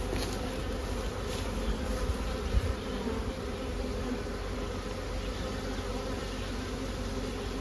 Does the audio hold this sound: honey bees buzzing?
yes